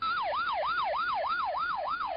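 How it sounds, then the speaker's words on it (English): A police siren wails in a steady, rapid rise-and-fall cycle, loud and close, sweeping up and down roughly every third of a second with no voices present. "The flashing lights and screaming sirens."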